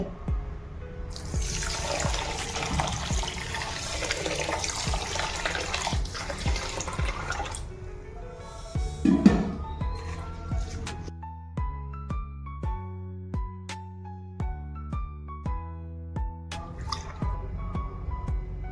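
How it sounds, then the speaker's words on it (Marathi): Rice for a pulao is rinsed under running water, first with a long rushing splash and swirl, then a sparse run of clear drips and trickles, close and moderately quiet. "आपण तांदूळ धुवून घेऊया स्वच्छ"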